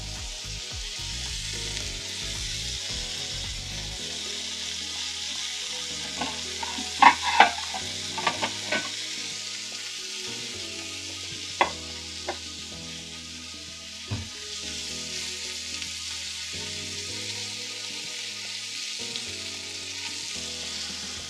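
Ground meat searing in a hot pan for Salisbury steak: a steady, close sizzle, with scattered scraping and clacking from stirring in the middle stretch. No voices are present.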